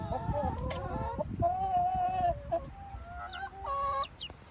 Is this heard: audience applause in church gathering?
no